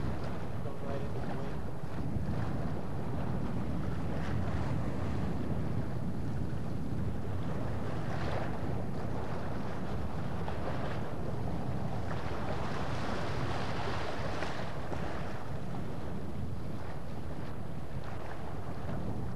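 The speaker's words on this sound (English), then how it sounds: "We had not a lot of wind today, I'd say between 5 and 10 knots, sometimes 12." Wind rushing past while sailing a windraft on open water in light breeze of 5 to 10 knots, a constant loud buffeting roar with water wash beneath, swelling and easing over the whole stretch.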